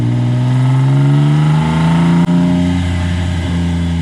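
Cammed LS7 V8 in a BMW E36 drift car revs loudly up close, pitch climbing and falling through a couple of throttle blips with a brief sharp break midway, no talking.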